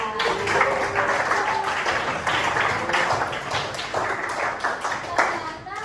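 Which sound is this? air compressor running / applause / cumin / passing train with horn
applause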